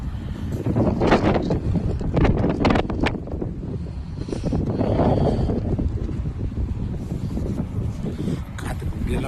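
Strong wind buffets the microphone in loud, gusting roars with heavy low rumble, while a person talks over it in Tamil close by.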